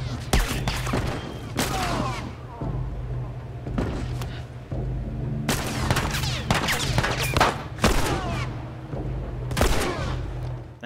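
Gunfire in The Last of Us comes in several loud, dense bursts of rapid shots separated by short quieter gaps, with a game soundscape running underneath.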